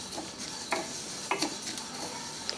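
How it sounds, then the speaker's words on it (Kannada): White sesame seeds roast in a hot pan, giving off sparse, small pops and crackles over a faint sizzle. The sound is quiet and close, with no talking. "ಈ ರೀತಿ ಚಟಪಟ ಅಂದ್ರೆ ಇವೆಲ್ಲ ಹುರಿದಾವ ಅಂತ ತರ್ತಾರೆ."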